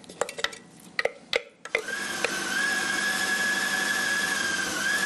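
An electric mixer chops carrot, meat and mushrooms for Vietnamese nems. A few sharp knocks come first, then the motor starts into a loud, steady whirring drone with a high whine that holds to the end.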